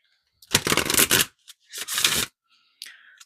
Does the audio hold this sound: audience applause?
no